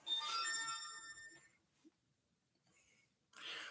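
A phone ringtone plays as a tonal electronic melody at moderate loudness, fading out after about a second and a half, followed by a quiet pause and then a brief burst of noise.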